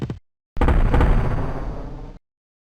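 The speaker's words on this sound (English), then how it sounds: "As soon as I left click, everybody stops dead and shoots." Units in the video game Conquest Earth open fire on an enemy at once, giving a loud, dense burst of blasting gunfire that lasts about a second and a half after a short click, with no talk.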